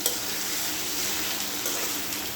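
Taro sizzles in hot oil, a dense, even crackling hiss heard close and continuous throughout.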